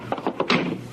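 A door in an old radio drama bumps and thuds several times in quick succession, a short cluster of muffled knocks that ends in a louder thump, all heard close up.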